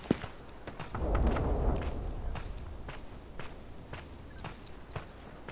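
Enemy footsteps in a video game tread in a regular series of crisp thuds, loud and near, over a brief swell of rumbling background noise, with no talking.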